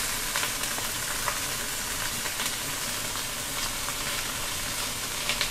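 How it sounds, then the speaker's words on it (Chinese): Shrimp fry in a pan for a braised seafood dish, giving a steady, loud, dense sizzle that runs without break, with faint stirring clicks and no voices. "我们煎虾啊，因为要虾的味道在里面嘛"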